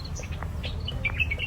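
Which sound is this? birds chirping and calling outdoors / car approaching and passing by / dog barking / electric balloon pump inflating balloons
birds chirping and calling outdoors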